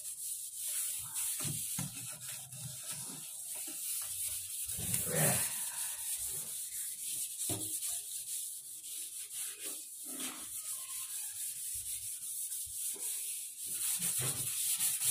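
Steady rough scrubbing of a steel sink with a dishwashing scrubber, continuous close abrasive rubbing strokes throughout, without speech.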